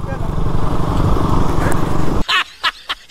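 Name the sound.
KTM motorcycle engine running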